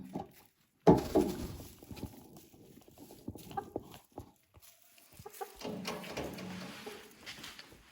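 Backyard hens clucking softly at close range, with intermittent low calls, rustling and movement noises between them, and no one talking.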